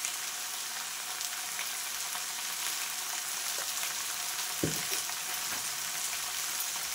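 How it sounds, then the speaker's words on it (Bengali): Spices fry in a pan for a jackfruit curry with a dense, even hiss of oil that holds steady, joined by a few soft knocks and scrapes of a spoon stirring, close by and with no talk. "তো দেখো আমি খানিকটা একটু কষিয়ে নিলাম মশলাটা দিয়ে।"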